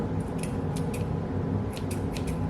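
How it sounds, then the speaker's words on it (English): Scissors snip repeatedly through a bundle of yarn pieces for a craft lantern, a few crisp, close cuts in two quick bursts over a steady low background hum. "just take your scissors and cut through all those pieces of yarn"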